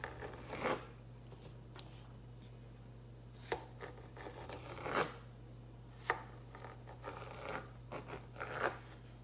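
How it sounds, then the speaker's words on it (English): A knife chops food on a board into small bite-size squares, leaving scattered crisp cuts and crunchy taps at an irregular pace over a quiet steady hum, with no talk. "Then you want to cut it into little bite-size dicey squares."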